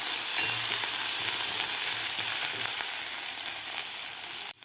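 Ginger garlic paste fries in hot oil for an aluvadi curry, a dense, continuous close sizzle that stays loud and even before cutting off abruptly at the end.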